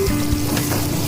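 Chopped onion sizzling in hot oil with garlic at the start of a sauté, a dense, steady, close frying hiss throughout the brief moment.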